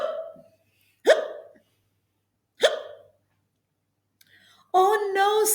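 A child-like hippo character hiccups three times, sharp separate yelps spaced about a second and a half apart, followed by a short voiced sound as the character begins speaking.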